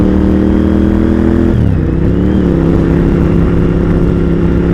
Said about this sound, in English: I'm riding a motorcycle.